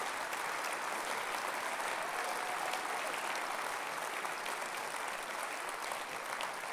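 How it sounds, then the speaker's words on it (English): Sustained audience applause fills a hall at a Liberal Democrat spring conference, a dense even wash of clapping from many people that holds steady at moderate loudness throughout. "Round of applause."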